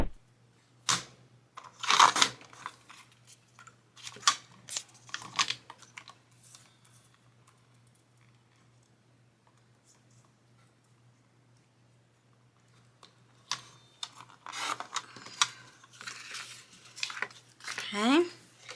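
Paper being cut with scissors while making a DIY pencil case, heard as a few bursts of crisp snipping and rustling, near and moderately loud, with quiet gaps between and a steady low hum underneath.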